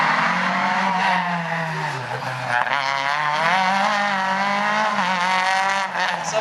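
A Renault GT Turbo races through a slalom course, its engine note rising and falling loudly and continuously throughout, with steady revving and gear changes close by.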